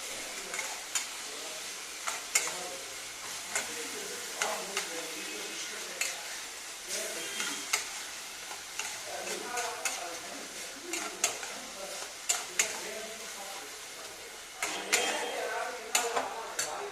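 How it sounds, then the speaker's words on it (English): Pav bhaji mix stirred as it fries in a pan: a steady sizzle under repeated scraping and stirring strokes, close and continuous, with soft clinks of the utensil against the pan. "Remember to keep stirring your mix so that it doesn't get burnt."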